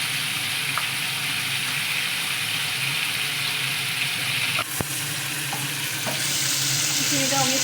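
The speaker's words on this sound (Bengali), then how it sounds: "চিংড়িটা অনেক ফ্রাই হয়ে গেল" Prawns fry in hot oil with a steady, loud sizzle and crackle throughout, broken by a few light clicks and scrapes of stirring or lifting the pieces.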